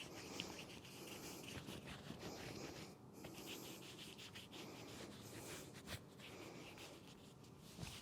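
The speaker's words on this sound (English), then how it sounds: "Then start rubbing the skin of the arms." Hands briskly rubbing the skin of the arms during a martial body-conditioning warm-up, a steady soft friction swish running continuously and fairly close, with no talking.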